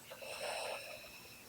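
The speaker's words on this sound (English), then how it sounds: "Open mouth, exhale. Breathe in and out." A single breath is pushed out through an open mouth during a meditation, making a soft, airy, slightly raspy exhale that lasts about a second and sounds close and quiet, with no talking over it.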